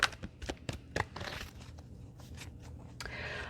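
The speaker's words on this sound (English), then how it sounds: "I'm now shuffling the archetype cards by Carolyn Meese" A deck of archetype cards by Carolyn Meese is shuffled by hand in a quiet room, giving a run of crisp, close card snaps and papery riffling rustles.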